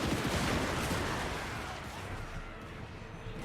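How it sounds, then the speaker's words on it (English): Handgunner musket volleys from Total War: Warhammer 2 roll out as a dense, loud crackle of massed gunfire, strongest at the start and easing slightly, with no voices. "God, just look at those salvos, man."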